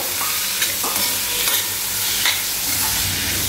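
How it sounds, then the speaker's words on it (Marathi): Green peas stirred into fried spices in a pan make a loud, continuous sizzle, with rhythmic scraping strokes of a spoon heard close up. "मटार व्यवस्थित मिक्स करून घेणार आहोत।"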